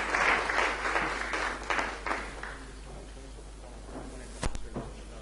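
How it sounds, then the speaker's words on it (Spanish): A crowd at an event applauds, a dense burst of clapping that starts strong and tapers off after about two seconds, followed by scattered claps, a few knocks and faint room noise. "Un aplauso para ellos."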